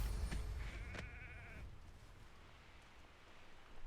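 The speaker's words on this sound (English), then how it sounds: "I'm just hearing the sheep." A sheep in the Hogwarts Legacy video game gives a short, clear bleat near the start, followed by quiet outdoor ambience with a faint breeze.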